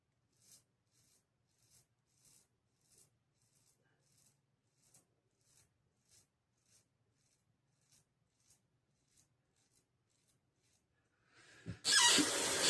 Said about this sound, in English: I'm just going to put more shaving cream and touch it up.